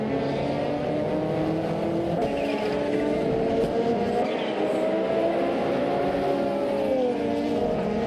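A Lancia Delta HF Integrale and a Ford RS200 race side by side in a video game, their engines giving a steady, droning whine with rising and falling pitch and some tire squeal, loud and continuous throughout.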